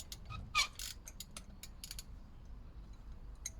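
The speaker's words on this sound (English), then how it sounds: "the spanner keeps on rubbing on the strut, so it keeps on adjusting again" Ratchet spanner clicking while tightening the front suspension top mount bush on a Peugeot 308 1.6 HDi, a few faint sharp clicks in a quick cluster, then sparse ticks over low background rumble.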